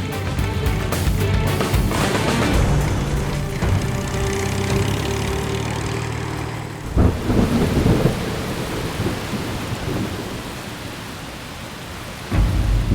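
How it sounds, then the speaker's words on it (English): Heavy rain pours steadily while rolling thunder rumbles loudly at first, then fades, with a few sharp cracks later; no voices. "the rain has already started falling"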